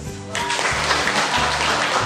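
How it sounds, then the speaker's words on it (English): A debate audience breaks into dense, loud applause for a team after a short musical sting, the clapping sustained and close for the rest of the moment. "Can you hear the clap for Team Marital"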